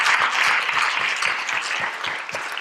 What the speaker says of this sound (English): Can we give them a hand? Round of applause.